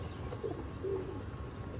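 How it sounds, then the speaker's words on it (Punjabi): A Rampuri pigeon gives a brief, soft coo or two close by over a low, steady background hum. "ਇਹ ਦੋਸਤੋ ਰਾਮਪੁਰੀ ਕਬੂਤਰ ਜੀ"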